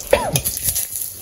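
A bay leaf hits hot oil in a pan with a sharp, close sizzle and a brief stirring scrape, then a fading crackle, all over about a second with no voices.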